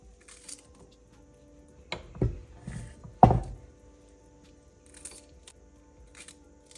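A knife chops ginger on a board in a handful of sparse, separate thuds, with quiet stretches between the strikes and no talking.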